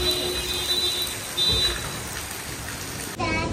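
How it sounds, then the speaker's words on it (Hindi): Heavy monsoon rain pours down steadily in India, a dense, close hiss of drops hitting surfaces and pooled water, continuous with slight surges, with faint voices in the background. "आज हो रही है भयंकर बारिश, सुबह 4 बजे से हो रही है"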